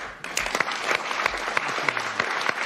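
An audience claps and cheers at a comedy meeting, the applause steady and fairly loud throughout, with scattered louder claps and whoops mixed in.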